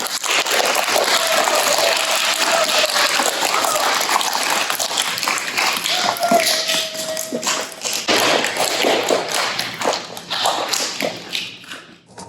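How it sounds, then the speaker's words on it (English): An audience at a children's class play gives loud, steady applause, with many close hand claps packed together that thin out and fade near the end. "Let's give them a big round of applause."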